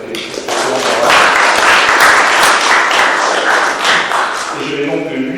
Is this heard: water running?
no